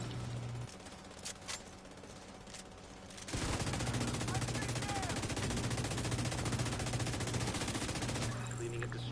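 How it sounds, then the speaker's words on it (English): Shotgun fire in The Division 2 video game: a quieter stretch gives way to loud, dense, rapid bursts of gunfire that continue without a break to the end. "Yep, shotgun."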